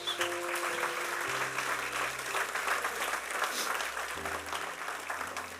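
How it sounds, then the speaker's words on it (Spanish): A church congregation applauds God, a dense, continuous wash of clapping that holds steady for several seconds while sustained keyboard chords ring underneath. "Dale un aplauso a Dios"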